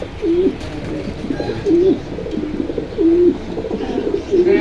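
A pair of black checker pigeons coos in repeated soft, low phrases, four evenly spaced bursts close by at a pigeon market stall, with faint background murmur.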